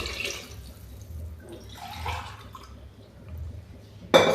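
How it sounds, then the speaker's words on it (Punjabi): Water trickles and splashes softly into a pot of rice for savoury salted rice, in faint, uneven pulses that end in a sudden louder splash. "ਸਿਰਫ ਤਿੰਨ ਗਲਾਸ ਪਾਣੀ ਦੇ ਪਾਉਣੇ ਆ"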